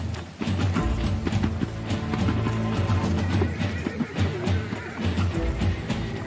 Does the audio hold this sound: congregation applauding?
no